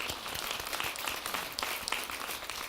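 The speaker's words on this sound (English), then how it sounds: "So give Melissa a round of applause because we put her on the spot." An audience at a business forum for CEOs applauds with dense, continuous clapping that fills the room at a steady level, with no voices standing out.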